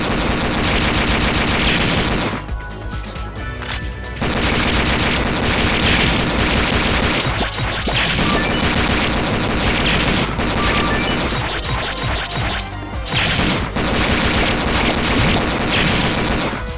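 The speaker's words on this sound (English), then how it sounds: "Two machine guns." Machine gun fire in the video game Metal Slug 6: loud, rapid and nearly continuous bursts that dip briefly twice before resuming at full intensity.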